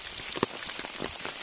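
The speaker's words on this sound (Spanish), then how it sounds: "No ha parado de llover desde que hemos llegado, y continuará." Steady rain falls in the Irati forest in November, a dense, even patter of drops close around, with a few slightly louder hits and no voices.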